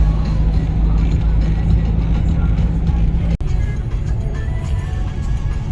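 A truck loaded with straw rumbles along the Aksaray–Konya road with a steady, close engine drone and road noise, a single brief dropout partway through.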